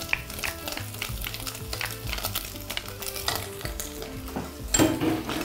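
Beef pieces sizzle and fry steadily in a pan for garlic-sauce beef, with frequent spoon scrapes and stirring clatter close by; no talking.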